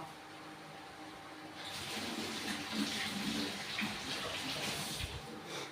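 Tap water running steadily while hands are washed at a sink, a continuous close splashing flow that swells after a couple of seconds and carries on alone.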